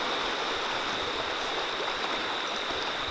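River flowing through the Australian bush, a continuous broadband rush of running water, steady and fairly close, with no voices.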